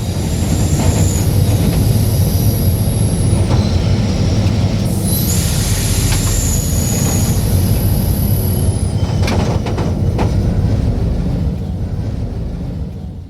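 A MARC commuter train rolls past at a Baltimore station, its steel wheels squealing in long, high-pitched whines over the loud, steady rumble of railcars, fading slightly at the end.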